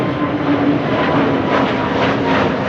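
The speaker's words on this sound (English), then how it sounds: "PHGOV, the government airplane" The PHGOV government airplane at Schiphol Airport, heard as a steady, moderately loud broadband jet roar with a faint low hum, continuous and unbroken, no voices.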